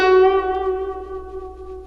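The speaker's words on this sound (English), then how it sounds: "And you can use the string pressure to create vibrato." A sustained guzheng note wavers with vibrato produced by rhythmic pressure on the string, ringing clearly with some reverberant tail and fading gradually, no voices.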